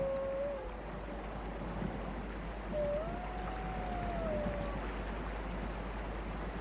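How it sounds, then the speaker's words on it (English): Arctic wolves of a spread-out pack howl in the distance, two long, faint, wavering howls rising and falling over a low steady rumble, with a quiet gap between them. "The pack is spread out, but keeps in touch by howling from time to time."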